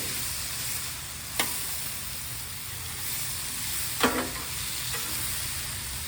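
Chicken teriyaki stir-fry with onion sizzles loudly and steadily on a flat iron, broken by two sharp scrapes as a spatula flips the pieces; no one talks.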